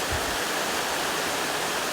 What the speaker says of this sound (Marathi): हा बघा रानपाटचा धबधबा